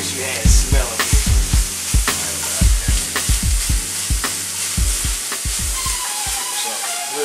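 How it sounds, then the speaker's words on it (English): Onions sauté with ground meat in a pot of chili on the stove, a soft sizzle under repeated close knocks and scrapes of a spoon stirring against the pan, more frequent at first and then sparser. "so we can let these onions kind of saute a bit with the meat"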